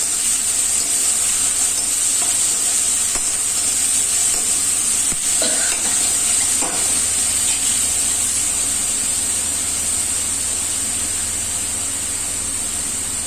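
Ground onion frying in a pan for a Chhattisgarh-style egg and potato curry, a steady, dense sizzle with a bright hiss running throughout, occasional soft stirring scrapes, and no voices.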